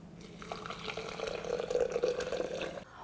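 Hot water at 195 degrees Fahrenheit poured over coffee grounds in a French press, a soft, close liquid splash and gurgle building over about three seconds, then stopping, with no talk.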